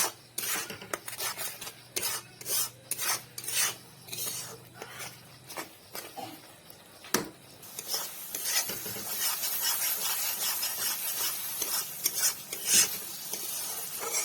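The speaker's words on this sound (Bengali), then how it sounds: "পরিমাণ মতো হলুদ শুকনা লঙ্কা গুঁড়ো জিরে গুঁড়ো পরিমাণ মতো নুন দিয়ে এগুলোকে আমি নাড়িয়ে চাড়িয়ে নেব" Turmeric, dried chili powder, cumin powder and salt fry in oil as a spoon stirs them, close rhythmic scraping strokes at first, then a steady loud sizzle takes over with occasional knocks against the pan.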